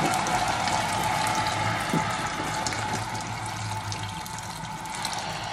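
Water is poured into a cooking pot holding bottle gourd, sardines, misua and udon noodles, a steady close splashing and running stream that continues without pause, with faint clinks behind it.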